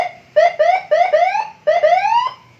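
A police escort motorcycle siren gives a short-tone setting: four quick, loud rising chirps in a row, close and alone with no voices.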